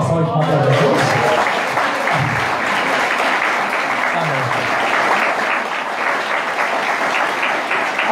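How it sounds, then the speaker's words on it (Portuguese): A church congregation claps together in sustained, dense applause, loud and steady throughout, with a voice speaking briefly over it near the start. "Mais uma salva de palmas para Jesus."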